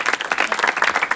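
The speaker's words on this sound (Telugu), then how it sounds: "చప్పట్లు కొట్టాలి అనిపించలేదు?" A church congregation at a Bible mission gathering claps together in a quick, dense burst of many hands, loud and close, filling the short moment.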